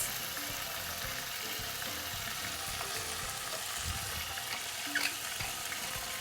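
Pieces of beef browning in a hot pan give a steady sizzle and crackle, with occasional stirring scrapes and a small clunk near the end, moderately close and without talk.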